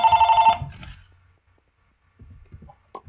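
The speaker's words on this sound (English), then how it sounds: "Sorry about that phone call." A telephone rings in a short burst at the start and then cuts off, followed by near silence and a few faint clicks.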